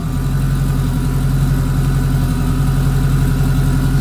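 A car engine idles loud and close after a coilover install, with a steady throbbing low rumble holding even throughout and no voices.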